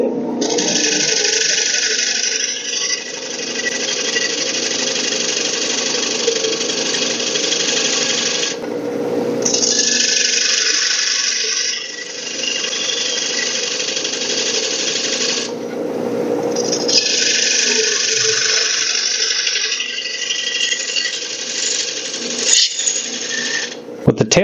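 A wood lathe turning a bowl while a tool cuts the recess and removes material outside the foot, a continuous loud scraping hiss broken by two short pauses.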